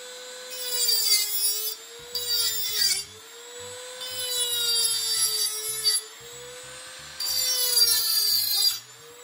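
A 170W multifunction power tool's disc grinds and rasps against wood in several bursts of a few seconds each, over a steady motor whine.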